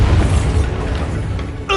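A Bombarda spell detonates in Hogwarts Legacy, a heavy low boom with a rumbling, crackling tail that fills the whole moment, then a brighter magical whoosh flares at the very end.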